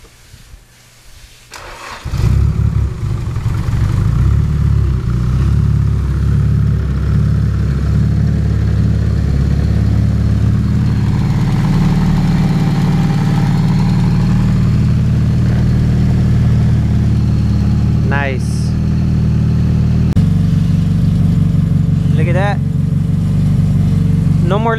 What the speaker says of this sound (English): So let's give her a crank.